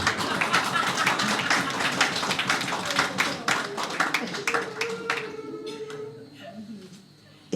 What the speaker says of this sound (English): Yeah, you're supposed to clap for that.